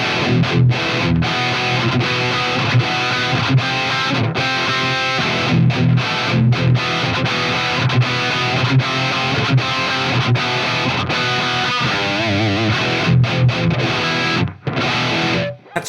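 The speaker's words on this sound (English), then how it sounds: "Here's the distortion 3." A heavily distorted electric guitar through a Kemper with a distortion pedal plays continuous crunchy chords and riffs, loud and dense, with brief pauses between phrases.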